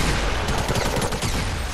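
SMG gunfire sprays in the Fortnite video game, a loud, dense stream of rapid shots that runs without a break, with no voices.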